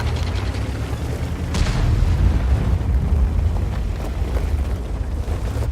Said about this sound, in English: fired a round in there, and it's a heat round